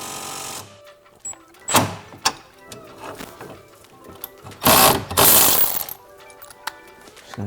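A ratchet works a strut nut loose on a Dodge Challenger air ride suspension kit install, giving quick bursts of clicking with short pauses and clunks between, fairly close and moderately loud.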